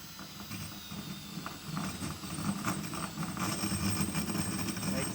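Continuous grinding, creaking mechanical racket from a boat jack plate lifting a large outboard motor, steady and close throughout with a faint voice in the background.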